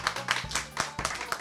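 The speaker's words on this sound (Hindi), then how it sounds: "बजाओ ताली उसके नाम पे यार" Brief burst of hand clapping, a handful of sharp, irregular claps in quick succession, close and fairly loud with no other sound around them.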